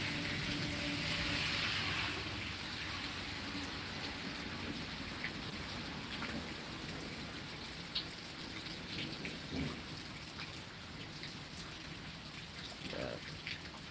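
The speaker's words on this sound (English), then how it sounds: "It's storming. It's quite electrical of a storm" Heavy rain pours steadily during an electrical thunderstorm in Pittsburg, Kansas, a dense hiss of drops on surfaces with occasional louder splashes, continuous throughout.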